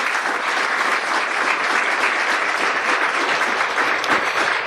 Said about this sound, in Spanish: Te doy un aplauso, Señor.